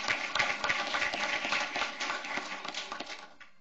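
An audience at a school board meeting gives a round of applause for AP scholars, a steady patter of claps that fades after a few seconds.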